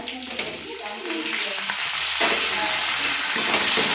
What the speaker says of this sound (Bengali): এই যে আদা রসুন পেঁয়াজ বাটা দিয়ে দিচ্ছি